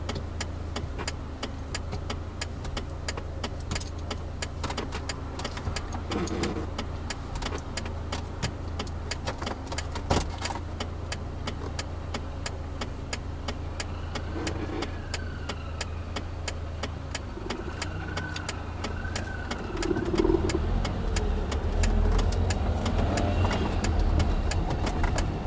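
A car's engine runs steadily while driving slowly along a city road from VDNKh toward Tverskaya, a low constant hum with faint rattles inside the cabin, rising slightly near the end.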